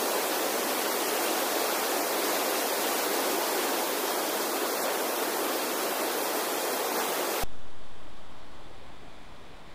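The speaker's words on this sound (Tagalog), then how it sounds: "Sarap ng tunog ng agos ng ilog." Steady rushing river current flowing in a quiet mountain town, a loud broad hiss of water that holds evenly, then drops suddenly to a softer, more distant flow near the end.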